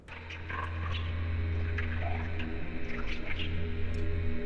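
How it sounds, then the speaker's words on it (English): Gurgling sounds coming from vents in a dark horror game, low wet bubbling and squishing noises over a steady droning hum, faint and continuous without speech. "I'm hearing like gurgling as well."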